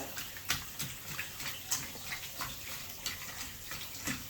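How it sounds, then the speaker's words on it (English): Steady running tap water splashes continuously, with soft irregular knocks and handling noises as a whole chicken is rinsed underneath. "clean the whole chicken with running water"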